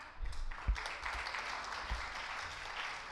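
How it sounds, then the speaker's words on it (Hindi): Audience applause at a Viksit UP Baithak gathering on power supply in Uttar Pradesh, welcoming the state's energy minister: a steady wash of clapping from a crowd, moderately distant, with a couple of low thumps and no speech over it. "तो जोरदार तालियों के साथ स्वागत कीजिए"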